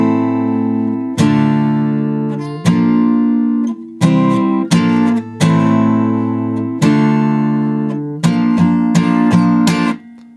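Acoustic guitar strums the next verse line of a song, using different chords from the opening line, in clear, close chord hits with short pauses between groups of strums, alone without talking.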